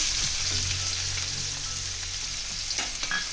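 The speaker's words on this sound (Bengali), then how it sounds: "একটু হালকা করে পেঁয়াজ কুচিটা ভেজে নিয়ে" Chopped onion sizzles in hot oil with whole cumin seeds, a loud, close, continuous frying hiss with occasional stirring scrapes and clinks from the pan.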